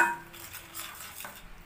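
Seafood seasoned with pepper and salt is stirred in a pot, a brief soft scraping and clinking of utensil against metal with a light sizzle underneath, close and fairly quiet.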